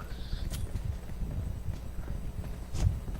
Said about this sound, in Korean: 발소리 바로 앞에.